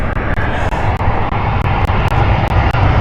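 A British Airways airliner arriving from Warsaw at Heathrow, its engines a steady, close, loud roar holding level throughout with no voices over it.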